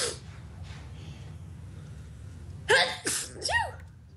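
One person sneezes loudly and close by, a sharp explosive burst with a breathy follow-up, over a quiet background hum.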